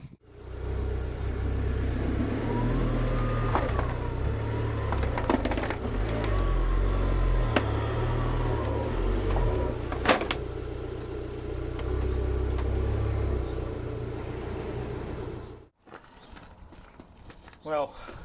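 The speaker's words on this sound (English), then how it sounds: "Hopefully that will be enough to get the car up onto the ramps without touching anything." An Abarth 595 hatchback creeps up onto ramps, its engine rumbling low and steady for about fifteen seconds with a few clunks and small rises in revs before falling quiet near the end.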